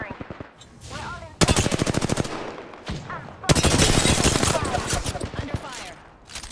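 Rapid automatic gunfire from the Apex Legends video game, loud bursts of fire in two long sustained volleys separated by a brief pause, with game voice lines faintly underneath.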